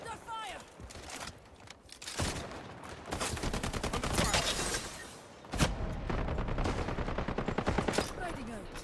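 Loud automatic gunfire in a first-person shooter, rattling in long rapid bursts with a few heavier booms among them, and voices calling out between and over the shots.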